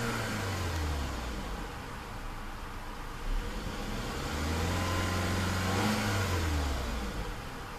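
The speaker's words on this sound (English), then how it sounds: "Absolutely no lag in the throttle and a beautiful racy engine note" A car engine revs with a racy note, rising and falling in a couple of moderate throttle blips under a steady rushing background, heard fairly faintly and with no talking.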